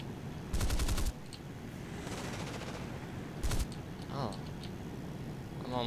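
Bursts of aircraft cannon fire in a flight combat game, a Meteor F8 fighting a Yak-9, come as two short rapid rattling volleys, about half a second each, over steady engine drone, with a voice talking.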